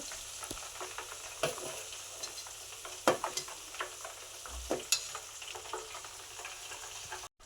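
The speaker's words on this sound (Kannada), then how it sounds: "ನಾನು ತುಂಬ ಲೋ ಫ್ಲೇಮಲ್ಲಿ ಇಟ್ಟು ಇದನ್ನ ಆಯಿಲ್ ಮಾಡ್ಕೊತಿರೋದು" Curry leaves fry gently in oil on a low flame, a soft sizzle punctuated by sharp pops and crackles and occasional stirring clinks, close and quiet with no talking.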